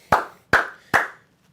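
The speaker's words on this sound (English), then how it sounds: "I'll clap it up a little bit to the Vanderbilt defense" Three sharp hand claps in an even rhythm, each a crisp close snap with a short ringing tail, separated by brief silence.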